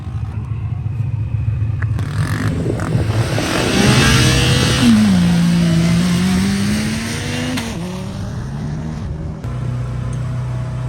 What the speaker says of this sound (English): I am going for a ride in a Yamaha 1000